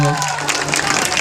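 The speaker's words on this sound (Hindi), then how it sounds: "एक बार ताली दे देबा हाले मुझे तनिक अच्छा लाग जी" Audience clapping at a live stage show in Kailashpur, a dense continuous patter of applause with a brief hum of voices underneath.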